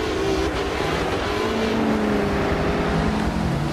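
A Koenigsegg Agera in Forza 7 at Circuit de Catalunya roars loudly with a sustained high-revving engine note and rising pitch, continuous and close.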